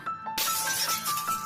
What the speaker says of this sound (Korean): 유리창이 깨지는 소리가 지옥의 서막을 알렸다